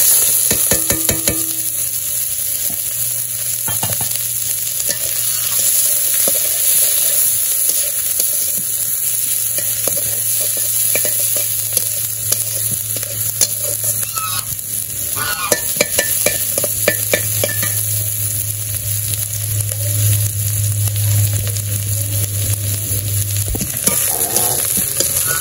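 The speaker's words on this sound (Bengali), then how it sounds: "আমার পেঁয়াজগুলো ভাজা হয়ে গেছে" Onions frying in hot oil in a kadai (wok), a steady loud sizzle running throughout with intermittent scraping and stirring clatter from a spatula against the pan.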